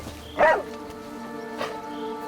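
A wolf pup in the fantasy game Soulframe gives a short, sharp yip, followed by a fainter second yelp, over a steady musical background.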